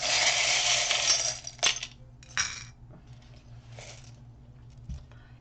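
Small metal charms clink and rattle as a hand picks through them. Soft taps and jingles come close and in short separate bursts, with quiet pauses between them.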